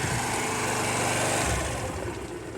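A Honda Varadero motorcycle engine idles nearby with a fresh air filter fitted, giving a steady, loud, continuous putter with no talking.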